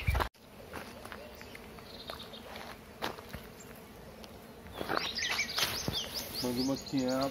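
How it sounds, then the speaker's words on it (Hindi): A soft honeybee buzz hums beneath outdoor footsteps and rustling at a rural Uttarakhand homestay, with faint voices and birdlike chirps toward the end. "मधुमक्खी है यहाँ पे। हाँ, आवाज तो आ रही है"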